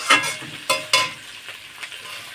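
Okra is stirred into a sizzling spice tempering for masala butter bhindi, giving sharp bursts of crackling sizzle with each stir that fade between them, close and fairly loud.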